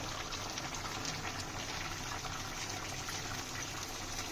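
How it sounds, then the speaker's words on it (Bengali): Fish curry with drumstick and potato simmering in a pot on a gas stove, a steady low bubbling hiss that stays even and faint throughout with no talk. "মাছটা দিয়ে একটু ফুটিয়ে নিই"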